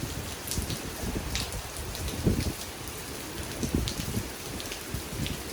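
Hurricane Delta rain pours steadily onto a Louisiana yard, a constant close hiss of drops and splatter with scattered heavier patters, no one talking.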